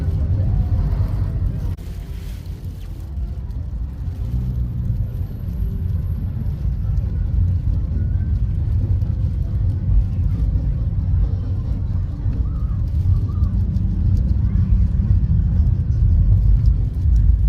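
Steady low engine rumble and road noise from inside a Grab taxi riding through Bangkok toward downtown, continuous and fairly loud throughout with no clear talk.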